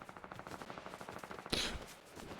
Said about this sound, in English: I heard some gunfire.